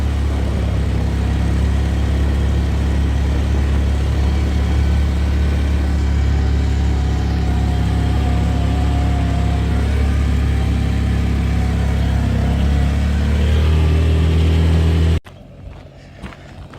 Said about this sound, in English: Truck just showed up now.